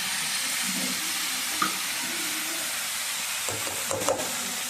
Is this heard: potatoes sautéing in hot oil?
yes